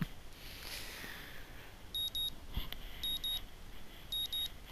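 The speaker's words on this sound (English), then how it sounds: "My morning alarm goes off" A morning alarm clock in the visual novel Katawa Shoujo beeps in three evenly spaced pairs of sharp electronic tones over a soft ambient background.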